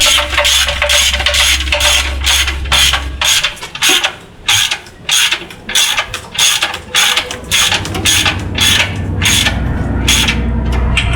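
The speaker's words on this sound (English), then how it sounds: "we're going to run these bolts in by hand" Rapid ratcheting clicks as transmission bolts are run in by hand on a 6L80 install, using a long 1/2 to 3/8 extension and a wobble socket; bursts of metallic clicking repeat steadily and close, with a brief pause mid-way.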